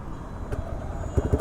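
A TVS Raider 125 motorcycle with an aftermarket exhaust starts up close by, a low rumble that breaks into rapid, punchy exhaust thumps at the end.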